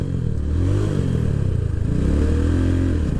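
A motorcycle engine runs close by during basic rider training at the beach, its throttle rising and falling in a steady, throaty rumble with light mechanical clatter.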